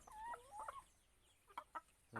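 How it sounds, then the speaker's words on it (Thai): Thirty-five laying hens cluck faintly in a backyard flock, with scattered calls and short squawks at a distance and no talking. "อันนี้เป็นไก่ไข่ ครับมีสามสิบห้าตัว"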